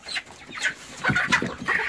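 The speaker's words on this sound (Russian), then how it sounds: "посмотрите, как петухи подрались, не на жизнь, а на смерть там" Roosters scuffle in a winter chicken coop, a burst of agitated clucks and squawks with wing-beat flurries, fairly close and rising in intensity through the second half, no talking.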